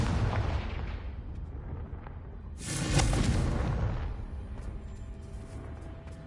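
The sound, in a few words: Confringo blasting spell in Hogwarts Legacy video game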